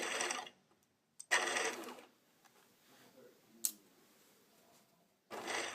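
A sewing machine stitches fabric in short separate bursts, each about a second long, with near, quiet gaps between them and a faint click in one of the pauses.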